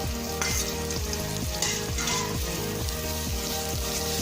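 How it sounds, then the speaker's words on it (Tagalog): Ginger being stirred as it fries in a pan, the start of a mussel tinola: steady sizzling with regular scraping strokes of the spoon, about two per second, close and clear. "Haluin. At ilagay ang luya."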